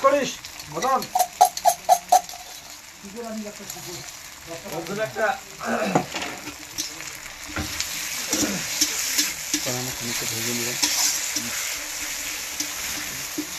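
Chili, ginger and garlic paste sputters and sizzles loudly in a pan, a continuous crackling fry with voices talking over it at the start and intermittently after.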